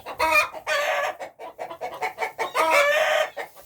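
Several chickens cluck and squawk close by in busy, overlapping bursts, with short gaps between calls.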